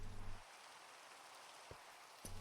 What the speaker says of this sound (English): You're lucky as shit that it's raining here.